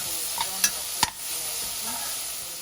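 Ingredients sautéing in a pan for white sauce pasta: a steady close hiss of frying with a few sharp stirring taps near the start.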